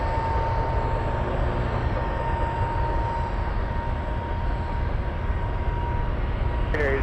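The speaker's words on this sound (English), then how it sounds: "we have a U.S. Marine Corps C-130 taking off from Elmendorf" A U.S. Marine Corps C-130 turboprop taking off from Elmendorf gives a continuous distant engine rumble and drone at steady loudness.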